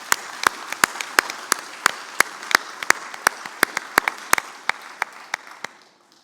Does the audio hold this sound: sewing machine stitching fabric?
no